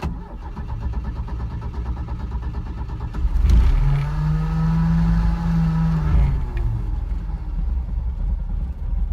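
A non-turbo Porsche 944 engine cranks and catches, then idles steadily with a brief rev, close and loud, running alone without voices.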